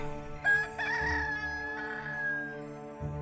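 A rooster crows once in a long, rising then sustained cock-a-doodle-doo, clear and moderately near, over a steady low hum, with a short sharp sound at the start.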